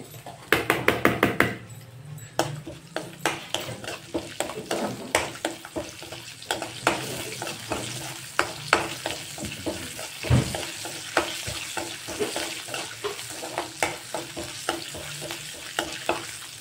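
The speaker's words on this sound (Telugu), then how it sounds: "కరివేపాకు వేసేటప్పుడు జాగ్రత్త అండి, చిట్పట్లాడుతుంది." Curry leaves, mustard seeds, cumin, urad dal, dried red chillies and asafoetida pop and sputter in hot oil for tempering, with a loud crackling burst at first, then irregular sharp pops and stirring knocks over a sizzle.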